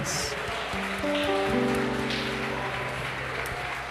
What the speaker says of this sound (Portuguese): Aplaude o Senhor Jesus aí, igreja.